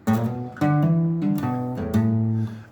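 Acoustic guitar riff from a song, a short strummed and picked phrase of bright harmonic chords with rhythmic accents, played close and clear with no voices.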